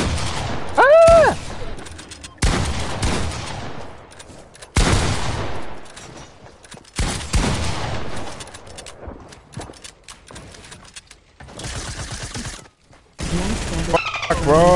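Bursts of gunfire in the Fortnite video game, loud clustered volleys separated by brief gaps, with game sound effects and occasional shouting voices over the shooting.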